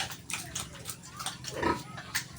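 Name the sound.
pregnant pig (sow) grunting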